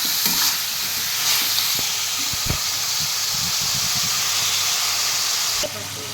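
Curry leaf chicken gravy being sautéed in a pan, with a steady sizzle and hiss and occasional scraping stir strokes close by.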